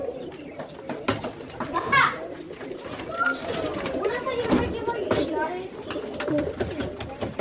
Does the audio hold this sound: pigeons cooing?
yes